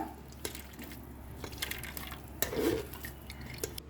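Coconut milk is pressed through a strainer, giving faint, sparse drips and soft splats over a low background hum, with occasional light clinks of kitchenware.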